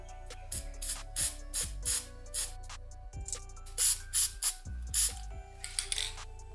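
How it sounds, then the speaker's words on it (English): Short spray-can bursts of lacquer over a fingerboard graphic, about a dozen hissy puffs in an irregular rhythm, close and fairly soft with quiet rattling between them. "now you're gonna spray the top of the graphic from a distance"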